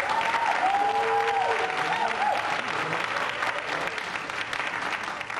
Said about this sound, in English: Make some noise for your winners, the Liberty Rings.